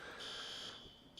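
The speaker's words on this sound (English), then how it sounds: "this is the second fire alarm that's gone off in the last 15 minutes" A smoke-style fire alarm sounds during a council meeting, a steady high electronic tone that cuts out briefly and resumes, fairly faint and heard in a room without talk.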